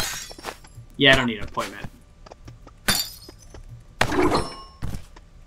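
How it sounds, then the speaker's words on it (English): Coffee mugs thrown and smashing in the video game Stick it to the Stickman, with a few sharp ceramic crashes and thunks spread through the clip amid game effects while someone talks. "chucking coffee mugs left and right"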